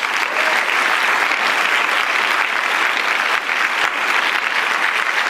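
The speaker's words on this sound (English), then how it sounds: "let's give them a big round of applause." Dense, sustained audience applause at a climate forum, loud and steady across the room, a continuous roar of many hands with no talk over it.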